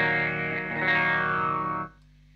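Electric guitar through an EQD Interstellar Orbiter effects pedal, half wet and half dry, rings out as a sustained, filtered and chorused chord with a swelling sweep before cutting off to a faint low hum.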